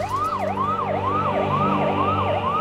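An ambulance siren stuck in a traffic jam sounds a fast, loud, rising-and-falling yelp that repeats about six times, alone with no talk.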